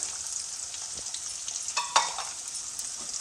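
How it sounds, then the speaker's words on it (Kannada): Sliced onions sizzle steadily in a hot pan for vegetable fried rice, giving a close, continuous hiss broken by a few sharp crackles and spatters. There is no talking. "ಈಗ ಇದು ಈರುಳ್ಳಿ ಫ್ರೈ ಆಗಿದೆ"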